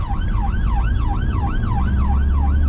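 A loud, close UK ambulance siren wails rapidly up and down in a steady fast cycle, over constant road and engine rumble during rush hour.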